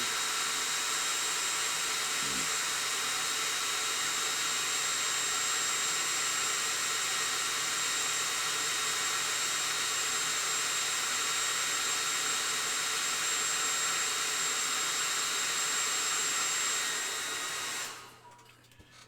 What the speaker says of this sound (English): Anybody who's wondering what kind of hair dryer I'm using, it's a cheapy little Walmart deal.